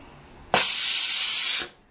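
Pressure cooker releasing steam after its whistles: one loud, close, broadband hiss that bursts on suddenly, holds steady for about a second, then cuts off sharply into a quiet kitchen.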